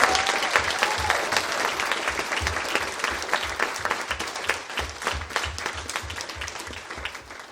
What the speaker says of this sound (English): join me in giving them a thunderous round of applause